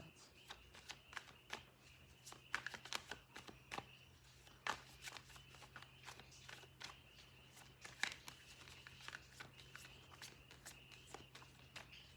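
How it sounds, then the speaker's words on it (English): Tarot cards being shuffled by hand close up, a quiet run of soft riffling and tapping clicks in irregular bursts over a low steady hum, with no talking. "I don't have to worry about my shuffling."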